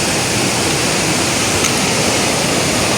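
Rushing river rapids pour over bedrock on the Lemmenjoki river, a steady, dense roar of white water heard close and loud without pause.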